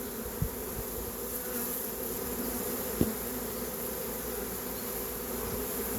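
A honeybee swarm moving into a hive produces a dense, steady buzzing hum that stays constant throughout, with one or two faint knocks and no voices.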